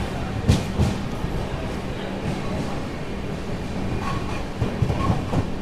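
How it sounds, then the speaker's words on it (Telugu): Padmavati SF Express train 12763 pulling out of Ongole station: a steady rolling rumble with a few sharp clicks and clacks from the wheels, near and moderately loud, with no talk. "మన ట్రైన్ ఒంగోలు నుంచి అయితే బయలుదేరిపోయింది"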